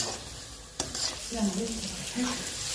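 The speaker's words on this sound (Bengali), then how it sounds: "একটু হালকা করে ভাজে নিচ্ছি আমি" Noodles lightly frying in a pan at home give a steady soft sizzle, with a sharp utensil knock near the start and a few scraping stirs over the hiss.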